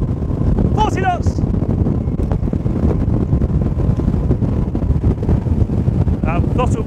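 A Supermarine Spearfish 32 powerboat with V8 TDI engines runs flat out at about 40 knots, a loud, constant engine roar mixed with wind buffeting the microphone, and brief whoops over the top.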